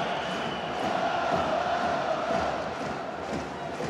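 Large stadium crowd at an Urawa Reds football match against Kashima Antlers, a dense, sustained roar of booing and noise filling the ground for the whole stretch, with no clear commentary on top.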